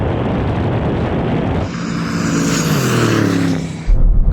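A Lamborghini Urus and an Aston Martin DBX 707 SUV drag race with loud engine roar, a broad rush of a car sweeping close past with rising then falling tone, and a sudden heavy rumble at the end.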